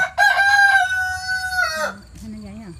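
Several Vietnamese roosters in a home garden crow, one long loud crow with rich harmonics close by, followed by a fainter second crow trailing off; a voice speaks briefly underneath.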